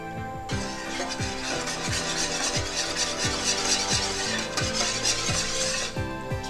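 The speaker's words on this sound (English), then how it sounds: "Keep stirring. Now I'm gonna add the rest of oranges." Orange chicken being stirred in a sizzling pan, with a steady scraping rhythm of the utensil about twice a second over a continuous close sizzle, no talking.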